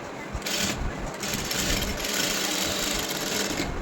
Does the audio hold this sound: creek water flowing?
no